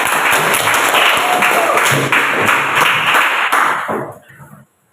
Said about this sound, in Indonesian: tepuk tangan untuk Ferdi